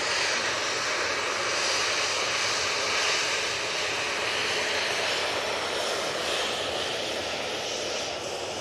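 A Ryanair Boeing 737-800 at Manchester Airport, departing for Prague, gives off a steady broad jet-engine roar that holds at a moderate distance throughout without fading, with no talk.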